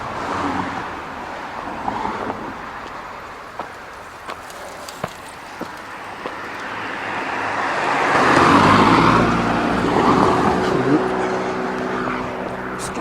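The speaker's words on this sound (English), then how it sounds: "I figured if the cars are making a rude noise" Cars passing on a road beside a summer running trail make a steady broadband traffic roar that swells louder around the middle of the clip, then eases slightly, with no clear talk.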